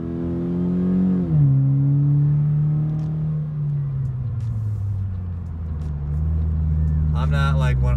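A Toyota 86 fitted with an Injen short ram intake, its engine droning at a steady rev with a brief rise and drop early on, then a sustained low hum with faint tonal sweeps near the end, close and continuous.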